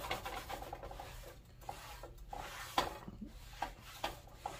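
Canola oil being rubbed around a cast iron pan with flaking seasoning, a soft close scraping and rubbing texture with faint clinks, steady and quiet with no talk.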